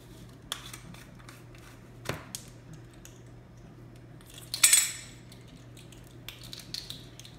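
A spoon stirs salt into brownie batter, sounding as a few sparse clinks and scrapes against the bowl with a brief louder clatter midway, all fairly quiet over a low hum.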